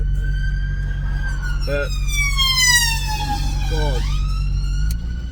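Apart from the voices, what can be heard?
ambulance siren passing on the street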